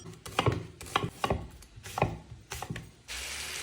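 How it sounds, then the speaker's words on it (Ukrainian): Knife chopping onion and apple on a board in quick uneven bursts of sharp close thuds, with a brief pause and a steady hiss of meat frying in a pan underneath toward the end. "І нарізаю цибулю та яблуко."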